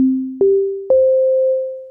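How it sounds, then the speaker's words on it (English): Ableton Wavetable synth playing a single sine wave oscillator, three clean pure tones stepping upward in pitch, each entering with a soft click and sustaining smoothly, alone. "now we basically just have a sine wave single oscillator"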